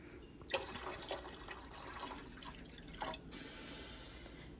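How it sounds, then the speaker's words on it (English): Water splashes into a pot in a steady gush, easing off briefly before a smoother, quieter stream continues. "I am also going to add 2 cups of water."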